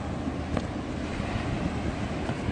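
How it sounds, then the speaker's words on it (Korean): Ocean waves at night along the Busan shore, a steady broad wash of surf with wind noise over the microphone, continuous and fairly loud with no distinct breaking crashes. "파도 소리 보세요"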